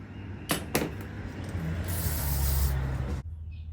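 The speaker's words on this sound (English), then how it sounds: "Let it soak a little bit in WD-40." WD-40 sprays onto a Yamaha YFZ450 carburetor in two short hissing bursts, followed by a longer continuous spray, all close and fairly loud. A low rumble sounds underneath, and it stops abruptly.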